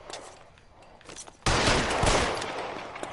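Gunfire in the LA Noire game: a quieter stretch with faint scattered shots, then a sudden loud burst that sustains as dense, overlapping shooting for the rest of the moment.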